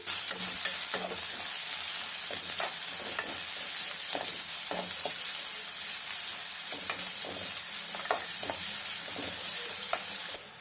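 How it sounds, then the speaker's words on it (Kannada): Finely chopped large onion frying with mustard seeds and curry leaves in a pan, a steady close sizzle throughout with repeated stirring scrapes and clinks at irregular intervals, no voices. "ಆ ಈರುಳ್ಳಿನ ಚೆನ್ನಾಗಿ ಫ್ರೈ ಮಾಡ್ಕೊಳ್ಳೋಣ"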